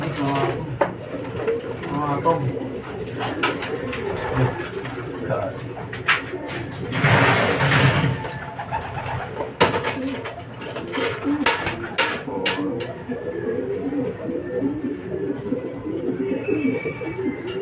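Racing pigeons arrive at the loft after a derby lap: soft cooing and wing flutters mingle with clacking and mechanical knocks, a louder rush of flapping midway, while people talk throughout.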